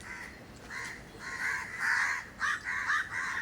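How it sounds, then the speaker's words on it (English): Several crows cawing in a steady run of harsh calls, clustered in bursts with short gaps, moderately close and loud with no talk. "And crows and crows."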